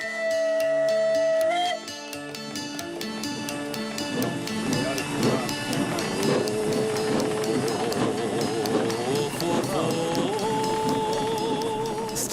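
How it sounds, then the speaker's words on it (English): Mocanita narrow-gauge steam locomotive, once used for hauling lumber, running on a Carpathian mountain railway from Vișeu de Sus: a sustained whistle-like tone at the start, then steady rhythmic clatter and hiss with tonal layers throughout, no voices. "the Mocanitsa steam engine, which used to transport lumber, provides a spectacular way to experience the wilderness"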